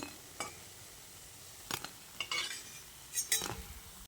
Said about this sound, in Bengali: বেশ খানিক্ষণ সময় ধরে পকোড়াগুলোকে আমি ভেজে নিয়েছি এবার পকোড়াগুলোকে তুলে নিচ্ছি